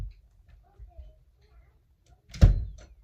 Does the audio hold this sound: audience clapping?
no